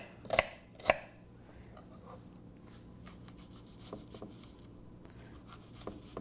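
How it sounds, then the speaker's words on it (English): A knife roughly chops a jalapeño on a cutting board: two sharp knocks up front, then softer, irregular taps and scraping at close range, with no talking. "Again, rough chopping."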